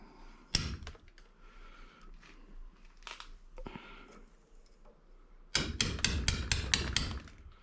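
A hammer striking a metal punch to loosen copper windings from a scrapped motor: a few scattered sharp taps early on, then a rapid burst of about six loud, ringing blows at the end, with no voices.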